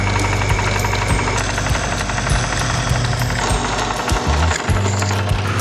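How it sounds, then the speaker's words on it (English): A drill press runs loud and close, a steady droning motor with rattling vibration and intermittent grinding as it drills. "this will be the last time that I have to use this drill press"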